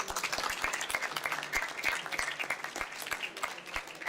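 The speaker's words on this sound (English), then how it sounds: "let's just give everyone a round of applause for that" An audience applauds steadily throughout, a dense patter of many hands clapping with no break.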